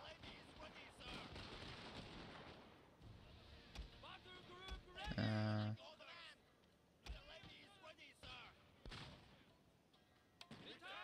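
Musket volleys crack across a battlefield in the Shogun 2 strategy game, with several sharp gunfire bursts over a steady din of combat, one loud blast standing out near the middle and others scattered through the scene.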